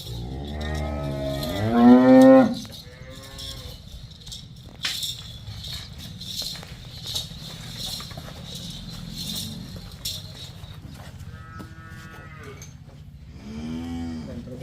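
Cows and calves moo loudly several times nearby on a farm, long drawn-out calls separated by quieter stretches of shuffling and rattling.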